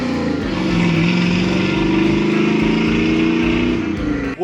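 A Pontiac Firebird, a field find rescue just swapped from an automatic to a four-speed manual, runs with a loud, steady engine drone that swells slightly and holds for several seconds before cutting off abruptly.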